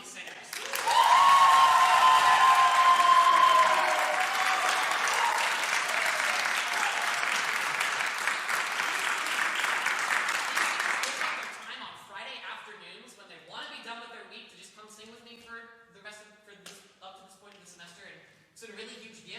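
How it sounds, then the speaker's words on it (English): An audience in a lecture recital hall applauds a choir, loud sustained clapping for about eleven seconds that then fades out as a speaker begins talking. "can we give one huge round of applause for these singers?"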